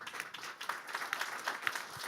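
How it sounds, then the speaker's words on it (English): Audience clapping at a web app demo day held at Google HQ, a brief, faint spell of scattered claps from a modest crowd with an irregular rhythm and some softer murmuring beneath. "It's okay to clap."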